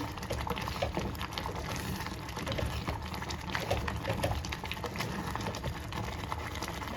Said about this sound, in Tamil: கொஞ்சம் தண்ணி சேர்த்துக்கலாங்க.